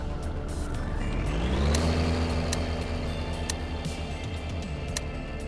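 ACF vehicle engine with an incompletely set-up gearbox in Garry's Mod, revving up steadily from a low drone to a higher whine, then holding a loud, continuous rumble with a few clicking ticks.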